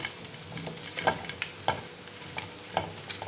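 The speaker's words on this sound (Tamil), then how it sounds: "இது கொஞ்சம் நீர் காய்ங்கிறதுனால கொஞ்சம் நேரம் அப்படி அடுப்பில் விட்டு விரட்டி விட்டுக்கலாம்" Chopped bilimbi (irumban puli) pieces sauté on a stovetop pan for a pickle, giving a steady close sizzle broken by repeated spatula scrapes and stirs; no voices.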